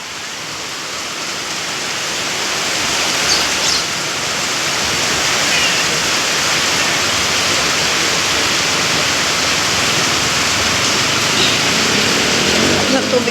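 A stream flows on a rainy afternoon as a dense, steady broadband rush of water, rising slightly at first and then holding loud and continuous.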